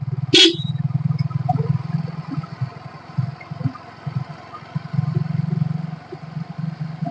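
A motorcycle rides along a road with a steady low engine drone that rises and falls slightly, opened by one sharp click near the start.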